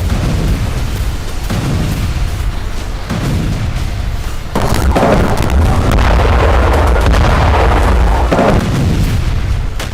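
Heavy bombardment and gunfire in the Gaza war, a dense, continuous barrage of loud booms and crackling shots with no pauses, growing heavier partway through.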